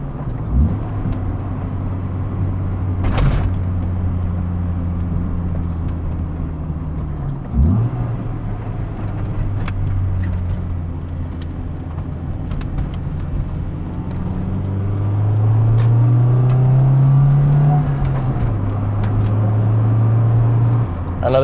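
A loud Acura Integra DC4 manual engine idles with a deep rumble, then revs up strongly and holds a higher pitch before settling back down.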